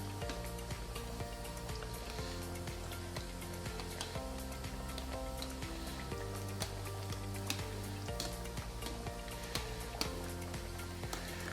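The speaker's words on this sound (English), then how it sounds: "And we'll flip our plantains." Plantains frying in a pan with oil, heard as a steady, close crackling sizzle with a dense spatter of pops running throughout, no speech.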